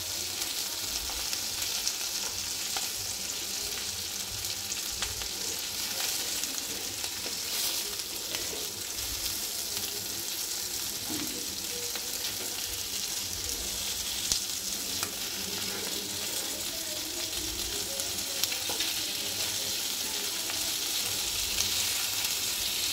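Sarputi fish frying in a 38 cm pan, a steady close sizzle and crackle of hot oil running continuously with occasional stirring and no voices.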